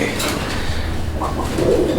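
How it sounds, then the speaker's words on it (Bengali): A pair of Pakistani teddy pigeons coo close by, soft low throaty calls repeating over a faint background. "এটা হচ্ছে টেডি কবুতরের একটা জোড়া"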